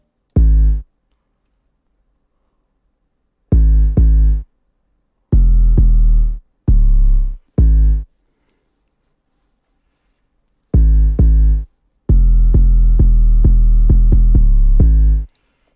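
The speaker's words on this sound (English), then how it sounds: "this is the 808 pattern I put down" An 808 bass pattern in a hip-hop beat, played alone as separate hard-hitting deep booming hits with gaps between them, then a longer sustained run of bass notes at the end, loud and close.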